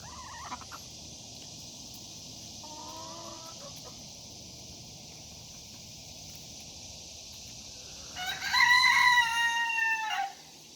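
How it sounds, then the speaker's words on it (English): A few soft hen clucks come first, then a rooster crows loudly and close by. A faint steady hum runs underneath. "I hear you, little rooster."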